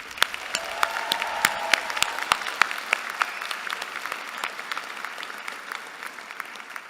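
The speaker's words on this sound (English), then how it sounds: "Please join me in giving them another big round of applause." An audience applauds at a public health commencement ceremony, a dense, sustained wash of clapping from many hands, loud and even throughout, with a brief faint tone early on.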